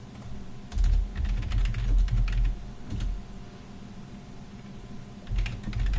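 Fingers typing code on a computer keyboard, bursts of rapid close clicking and key clatter separated by short pauses, fairly quiet and with no talking.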